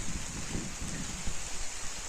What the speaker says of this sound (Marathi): पाऊस देखील चालू झालेला आहे